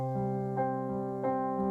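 Sustained piano-like tones alternating between two notes, with soft new strikes roughly every half second in a gentle rocking pattern.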